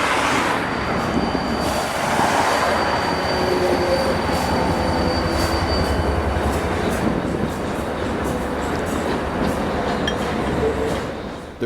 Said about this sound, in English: watching a train traverse rough track that has always been fascinating to me